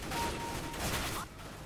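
Rapid bursts of rifle fire crackle in a Counter-Strike: Global Offensive match, a dense fusillade of close shots with faint background chatter.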